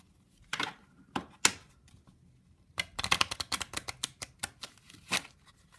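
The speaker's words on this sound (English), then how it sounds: "It doesn't really matter how much you shuffle" Playing cards shuffled by hand during a card trick, a few separate riffling bursts at first, then a rapid cluster of crisp, close flicks and snaps.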